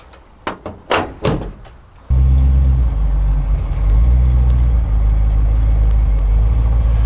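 A classic car's doors clunk shut in a few quick knocks, then the engine fires and settles into a loud, steady rumble close by as the ride begins.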